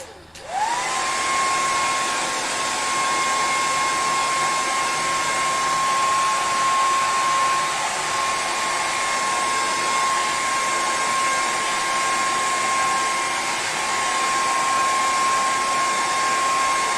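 A hair blow dryer runs steadily and loudly for the whole stretch, a constant whooshing airflow with a sustained whine, starting abruptly and continuing without pause.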